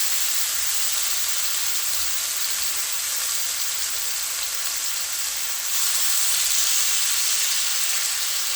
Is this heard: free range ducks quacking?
no